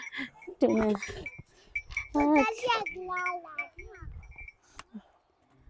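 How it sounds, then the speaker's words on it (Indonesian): Goats bleat in several short, wavering calls at close range, mixed with children and adults chatting and a faint bell-like ring, outdoors among a group of goats. "Tuh, kambingnya banyak ya teman-teman ya kambingnya banyak"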